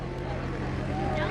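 A stock Cessna 170 light aircraft with a 145-horsepower engine drones steadily as it comes in to land at a STOL competition, a continuous low engine hum under a commentator's talking voice.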